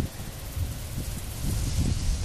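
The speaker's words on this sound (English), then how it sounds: "A nice little storm with some good wind going through." Wind gusting and buffeting during a storm, a steady rushing roar with low rumbling swells, no voices.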